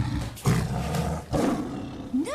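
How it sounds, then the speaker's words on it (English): A tiger roars in an indoor hallway, several loud, close, rasping bursts rising and falling in quick succession, the last ending in a sweeping tonal cry. "Mary, why is there a tiger in the hallway?"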